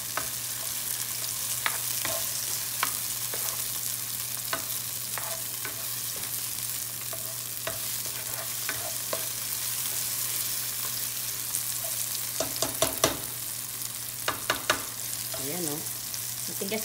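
Firm tomatoes fry in a pan, a steady bright sizzle running throughout with occasional clinks and scrapes of a stirring utensil, growing busier toward the end.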